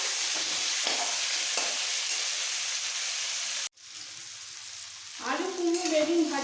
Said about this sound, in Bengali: এইবার আলু কুমড়ো বেগুন একটু ভেজে নিতে হবে